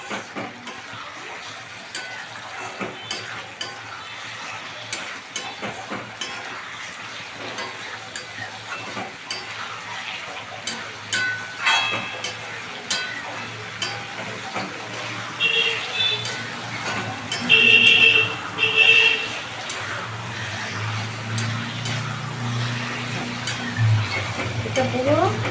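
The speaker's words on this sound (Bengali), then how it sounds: "এটা পুরো তেলটা ভাজছে" Fish bones with potato and eggplant fry in oil in a pan, a steady close sizzle broken by stirring scrapes and clinks of the utensil, with a voice talking over it at times.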